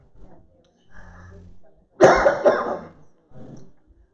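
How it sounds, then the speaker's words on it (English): One harsh, raspy cough bursts out nearby, set among quiet speech and breathing before and after it. "she has been coughing for 25 years"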